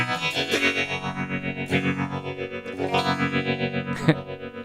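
Electric guitar chords through a phaser on space mode, swirling, sweeping and washed in echo and reverb, a dreamy tone played alone at moderate volume.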